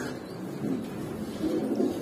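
A pair of tulip pigeons, both hens, coo softly at close range, with low muffled calls rising in a couple of gentle swells over a brief stretch.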